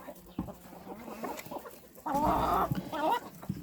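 Young chicks about three weeks old cluck and chirp nearby in a busy cluster, with a louder burst of clucking partway through.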